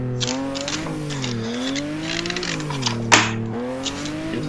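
Drift car accelerating hard out of a slide and climbing through second and third gears, engine note rising in steady harmonic sweeps with a brief sharp transient near the end, loud and close throughout.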